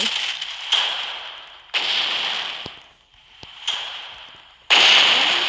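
Bursts of crackling fireworks explosions in a natural-disaster survival video game come in several separate volleys with short gaps, loud and sharp, in quick succession.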